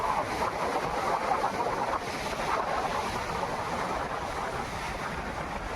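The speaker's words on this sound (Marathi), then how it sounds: "अचानक आकाश भरून आलं, वादळी वारा सुरू झाला" Stormy wind roars steadily during the first monsoon rain in Konkan, near a creek with trees whipping in the gusts, a loud continuous rushing wash without speech.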